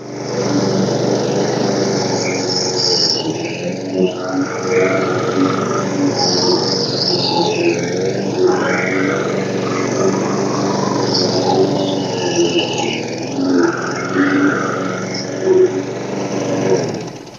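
A push lawn mower engine with a recently flooding carburetor runs loud and close in a continuous, even drone, with slight periodic dips in pitch and no speech over it.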